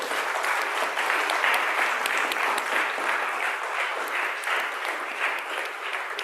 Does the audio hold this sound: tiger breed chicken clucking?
no